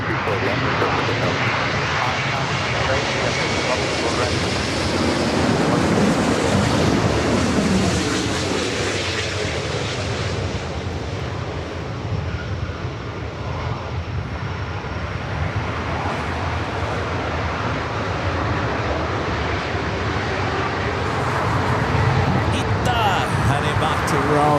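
Airbus A350 heavy jet landing on runway 24 right at Los Angeles International Airport, a steady, loud engine roar that swells and fades slightly over the whole span, with radio voices talking over it.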